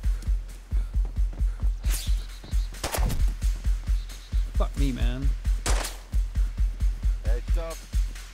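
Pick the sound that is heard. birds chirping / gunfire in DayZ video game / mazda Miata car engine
gunfire in DayZ video game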